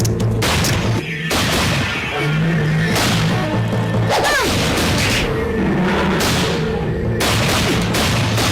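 Gunfire aimed at a giant lizard in an Indonesian fantasy TV film: loud, sharp cracks and whip-like bangs come in a rapid series, layered with booming effects, music and clattering action noise.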